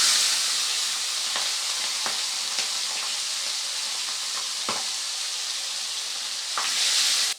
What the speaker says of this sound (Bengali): বাকি মাছগুলো একইভাবে ভেজে নেব।